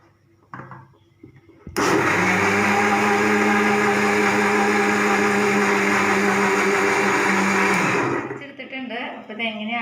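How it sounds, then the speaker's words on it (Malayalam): A blender runs for about six seconds, loud and steady, mixing crushed chocolate cupcake into a Mississippi mud drink, with brief handling clatter before and after. "എല്ലാം കൂടി നന്നായിട്ടൊന്ന് അടിച്ചെടുക്കാം"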